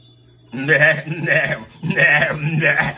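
A human voice imitates a goat, giving two wavering bleats in a row, loud and close with no other sounds.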